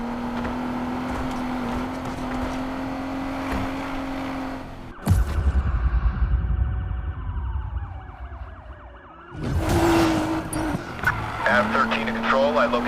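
Police pursuit in Need for Speed Payback, cruiser chasing a black Audi off-road through Liberty Desert: a steady siren wail under radio talk, then a roaring surge of engine and tyre noise at mid-clip before the siren returns.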